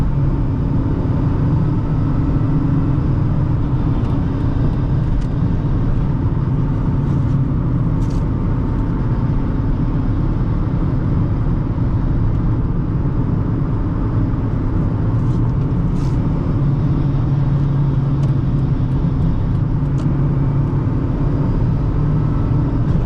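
Engine of a 2008 Honda Fit pulling along a road, heard from inside the car as a steady loud drone and rumble with road noise, continuous and unbroken, no talk.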